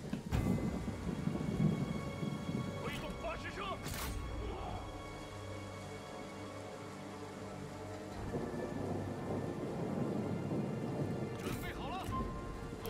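Rain and rolling thunder in the strategy game Total War: Three Kingdoms, steady rainfall with low rumbling thunder and occasional sharp cracks, heard under someone talking at points.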